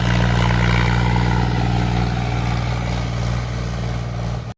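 A Mahindra 265 DI tractor engine runs after repairs, a loud, close diesel thrum with strong low pulsing that holds steady, easing slightly before cutting off abruptly at the end.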